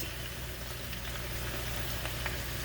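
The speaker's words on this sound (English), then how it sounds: "Grease pops everywhere." Hot grease sizzling and crackling in a pan of frying potatoes and onions, a steady, fairly soft hiss with scattered small pops.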